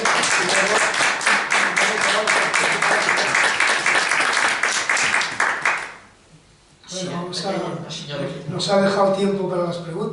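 A lecture audience applauds the speaker after a talk on the Arab world, a dense burst of clapping lasting about six seconds that stops abruptly, followed by a voice speaking.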